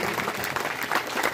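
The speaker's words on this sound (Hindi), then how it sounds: "जोरदार तालियों से इनका स्वागत करेंगे।" An audience at a Bhagwat Katha religious gathering claps to welcome a donor: a short, busy burst of many hands clapping at once, close and fairly loud.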